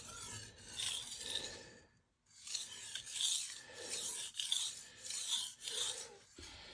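Close, gritty rasping as a chipped knife blade is drawn across a King 300 water stone in about six steady strokes, with a short pause partway through.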